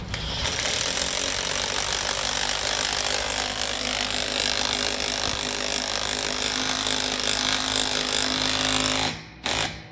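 A lag screw driven into a deck rail during installation makes a loud, continuous grinding whir that runs nearly ten seconds close up, then cuts off abruptly with a short final burst.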